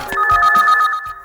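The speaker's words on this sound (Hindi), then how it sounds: "फोन उठाना जरा।" A telephone rings in a house scene of a Hindi-dubbed Kannada film, a loud bright electronic ring tone held for about a second before cutting off, close and alone.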